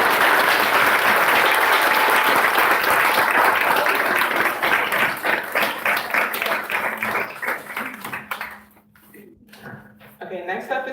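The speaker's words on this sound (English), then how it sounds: "Okay, so give him a round of applause." An audience at an annual celebration and awards event applauds a nominee, loud dense clapping that thins into scattered claps and fades out before a voice speaks at the end.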